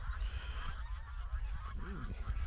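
Geese on a farm honk in a noisy outdoor yard, with several nasal calls, one clear and close near the end, over steady low rumbling background noise.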